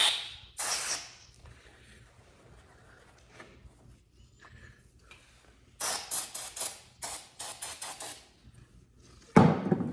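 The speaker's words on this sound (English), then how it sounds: "Little brake clean." Brake cleaner sprayed onto carburetor stud holes: a short hissing burst, then a run of several quick sprays a few seconds later and one more at the end, close and loud.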